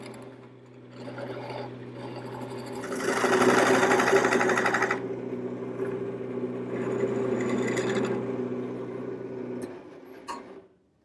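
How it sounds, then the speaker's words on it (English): A lathe spins steadily with a skew chisel cleaning up the shoulder of a wooden turning for a table leg, a continuous whirring hum that swells louder mid-way, then fades to near silence at the end. "I'm going to use my skew chisel."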